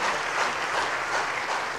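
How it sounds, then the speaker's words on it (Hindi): A crowd applauds a girl's question at a spiritual discourse gathering in Wembley, London: dense, steady clapping from many hands fills the whole stretch without pause and without talk. "ताली बजाओ इस बच्ची के लिए"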